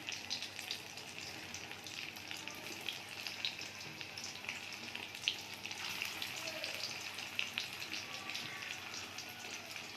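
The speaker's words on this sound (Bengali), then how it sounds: "এবারে ডিমগুলো ভেজে নেব।" Eggs frying in hot oil in a pan, a soft, steady bubbling sizzle with faint scattered pops, fairly quiet and unbroken, with no one speaking.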